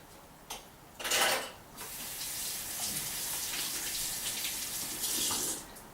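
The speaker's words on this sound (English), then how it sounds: "I gotta get my hands washed" Running tap water splashes over hands being washed, a steady close gush with brief louder bursts as the hands move under the stream, and no talking.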